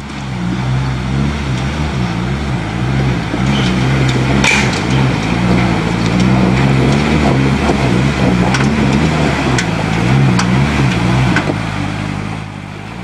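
A 4WD vehicle crawls in second low gear over loose rock and ledges on a high country track, its engine droning steadily and loudly throughout with knocks and scrapes from the tyres and body.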